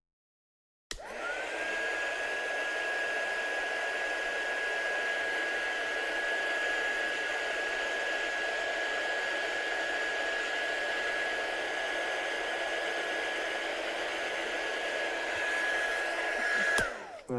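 A heat tool blasts a steady, loud rush of air to dry stamped ink on a handmade card, running continuously for about sixteen seconds before cutting off abruptly.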